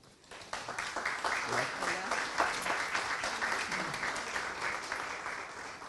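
An audience at a Chilean citizens' dialogue event applauds to welcome a speaker, the clapping swelling in after a quiet start and holding steady, fairly dense and moderately loud.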